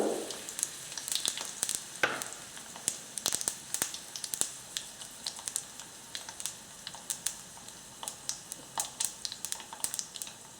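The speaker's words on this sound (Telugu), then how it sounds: "చూడండి పోపు చక్కగా వేగుతుంది" Spices and dried red chilli pieces crackle and sizzle in hot oil while tempering a ripe red chilli chutney, with a steady run of sharp, close pops and spits over a soft frying hiss.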